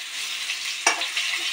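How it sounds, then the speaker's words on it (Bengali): Stuffed bitter gourd fries in a pan over low heat while being turned, giving a steady close hiss of sizzling oil with one brief clatter of the pieces being flipped partway through. "এই যে হালকা আগুনে এরকমভাবে চারিপাশ উল্টে পাল্টে ভেজে নিতে হবে"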